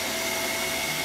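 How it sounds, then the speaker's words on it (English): A Chuwi ILIFE V5S robot vacuum cleaner runs with its mop removed, giving a steady, close, continuous motor whir and airflow hiss that holds unchanged throughout the short stretch. "It will just rely on the vacuum to clean."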